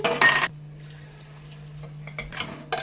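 A glass of water is poured into mutton masala for a mutton rassa curry in a pot: a short, loud, close splash, then quiet simmering and a couple of light clinks near the end.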